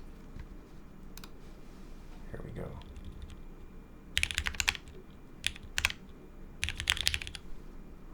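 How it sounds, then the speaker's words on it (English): Computer mouse clicks are heard close up from keyboard level during a keyboard build, coming in sharp clustered bursts over a low background hum, with a short bit of speech early on. "This is how loud the mouse clicks are at keyboard level."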